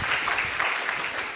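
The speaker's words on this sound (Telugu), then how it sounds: "ఒకసారి చప్పట్లు కొట్టగలరా ప్రభుకి?" A church congregation claps for God during a worship service, a dense, steady burst of applause that fills the room with no voices over it.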